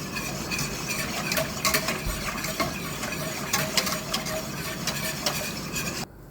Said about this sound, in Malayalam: നല്ല കൈ വിടാതെ ഇളക്കി കൊടുക്കണം കേട്ടോ